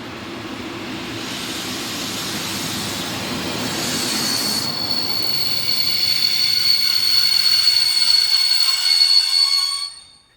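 A train hauled by a Class 223 diesel locomotive rolls into a station close by with a steady rumble, rising into a long high-pitched wheel squeal that holds until it cuts off at the end.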